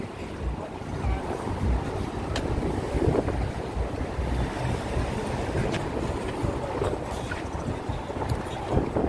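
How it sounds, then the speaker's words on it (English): Strong wind gusts by the Hudson River in New York City, a loud, continuous rushing roar buffeting the microphone throughout, with no talking. "The wind is very strong."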